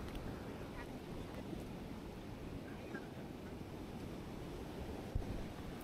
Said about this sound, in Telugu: చూస్తున్నారు కదా అలలు ఎంత గట్టిగా వస్తున్నాయో, ఫోర్స్ ఎంత గట్టిగా వస్తుందో